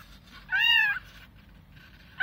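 Newborn stray kittens, eyes still closed, give one clear high meow in the middle, then faint rustling and the start of another cry at the end, close by with no talking.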